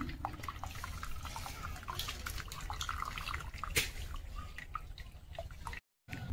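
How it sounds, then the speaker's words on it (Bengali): Starchy water from boiled rice being strained off, a steady low pouring trickle with scattered drips and light splashes, close and fairly quiet, briefly cut by a moment of silence near the end. "এবারে আমি মারটাকে ছেঁকে নেব।"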